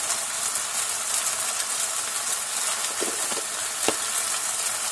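Rice with cumin and spices fries in a pan, a steady close sizzle and hiss with a few scraping knocks as it is stirred.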